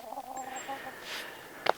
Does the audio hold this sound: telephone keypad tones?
no